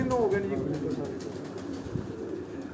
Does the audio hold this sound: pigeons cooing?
yes